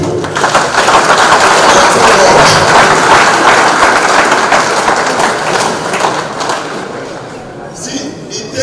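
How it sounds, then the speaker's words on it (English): A crowd claps at an outdoor political victory celebration in Edo. The dense, continuous applause stays loud for several seconds, then thins and fades near the end. "let us clap for all the Edo"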